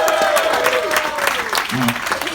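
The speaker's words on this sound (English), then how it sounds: "Thank you for giving me the clap." Audience applause for a musician at a KISS Kruise vault event, a steady wash of clapping and crowd noise running throughout with a voice talking over it.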